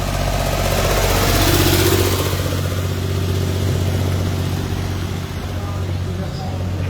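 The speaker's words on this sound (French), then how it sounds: "Voilà le tracteur qui va tirer les caisses à savon." A tractor engine idles at a soapbox cart race in Clères before towing the carts, a steady close mechanical drone, loud and continuous, with a voice speaking over it.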